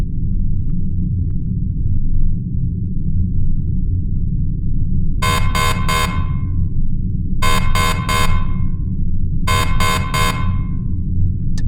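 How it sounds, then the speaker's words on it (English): Three sharp bursts of a rapid, pulsing electronic alarm on a spaceship blare out over a steady low rumble, each group of quick beeps separated by a couple of seconds of only the droning hum. "An alarm blared sharply,"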